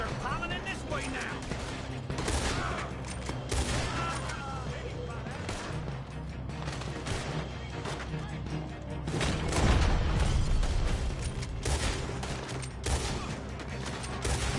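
Dense gunfire in Red Dead Redemption 2, with a fast, continuous fusillade of close shots and heavier booms forming a loud, chaotic barrage throughout, with shouted voices mixed in.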